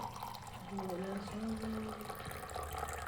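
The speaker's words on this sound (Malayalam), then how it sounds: "ഗ്ലാസ്സിലേക്ക് ഒഴിക്കുക" Butter coffee pours in a steady stream into a glass, the gurgle rising in pitch as it fills, over background noise.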